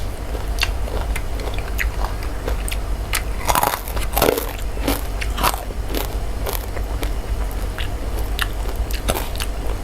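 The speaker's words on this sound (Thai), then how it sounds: "กินต่ออันนี้ก็คือมะละกอเลย เป็นยอดอ่อนนะคะของมะละกอเนาะ" Someone eats a spicy salad of young papaya leaves with chili, chewing close to the microphone with steady wet bites and crunchy crackles throughout, and no speech.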